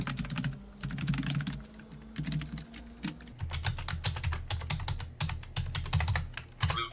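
Rapid keystrokes on an old computer's keyboard as a root password is typed during a Stormux Linux install, a dense run of close clicking taps over a low background hum, with no voices.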